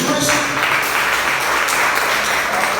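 A church congregation in Brasilândia, São Paulo, claps together in a dense, steady wash of applause that holds at full strength throughout, close and loud with no speech over it.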